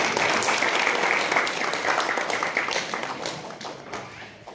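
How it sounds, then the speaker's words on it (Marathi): Audience applause at a prize-giving ceremony for an oratory competition, steady dense clapping from a large crowd that holds for several seconds and slowly thins toward the end. "मग टाळ्या का वाजत नाही?"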